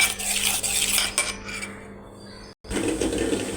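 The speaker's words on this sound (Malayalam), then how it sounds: "നമുക്ക് നന്നായിട്ട് ഇളക്കാം" A spoon scrapes and clatters steadily around a bowl as a sweet batter of ripe ethapazham bananas with a pinch of salt is stirred, close and fairly loud, with a brief pause near the end before the stirring resumes.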